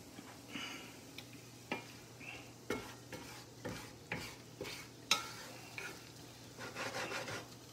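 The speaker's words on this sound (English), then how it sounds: "You just want to cook these till they're soft," Mushrooms cooking in a pan after deglazing, with a soft steady sizzle broken by a series of spatula scrapes and stirring strokes against the pan bottom, fairly quiet and close, no talking.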